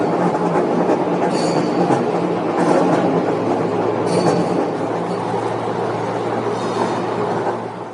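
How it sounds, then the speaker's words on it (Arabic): A Riyadh Metro train passes close by with a loud, steady rumble and rail roar that lasts the whole stretch, faint wheel squeals rising now and then, and no one talking. "شوف القطار."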